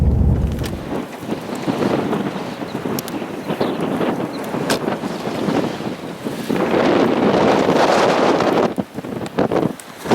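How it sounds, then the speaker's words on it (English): Strong wind gusting at 30 to 40 mph on open range roars and buffets the microphone in heavy, gusting waves, loud and constant throughout with no voices. "It is super loud out here, like 30-40 mile an hour gusts."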